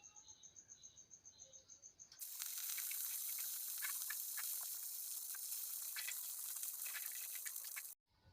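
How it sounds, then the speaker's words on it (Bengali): Salt-and-turmeric-coated catla fish pieces drop into hot mustard oil in a wok, setting off a sudden loud, steady sizzling hiss that runs for several seconds and then cuts off, after a faint chirping of insects. "দিয়ে একে একে নুন হলুদ মাখিয়ে রাখা মাছগুলো সব ভেজে নেব।"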